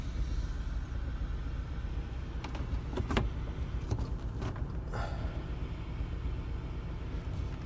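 Electric power windows of a 2010 Kia Carens with a 1.6 engine, faint motor whirs and a few clicks over a steady low rumble, heard with no talk.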